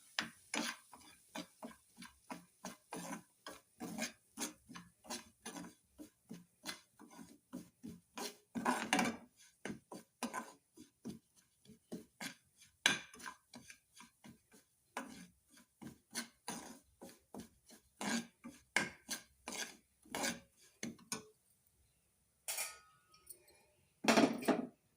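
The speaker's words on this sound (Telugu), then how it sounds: "స్టవ్ కొంచెం ఫ్లేమ్ తగ్గించి సిమ్లో ఉంచుకొని రవ్వ వేయించుకుందామండి ఇదే నెయ్యిలో" A spoon scrapes steadily through semolina (rava) roasting in ghee in a pan on a low flame, repeated rasping strokes in an even rhythm, close and fairly quiet, with no talking.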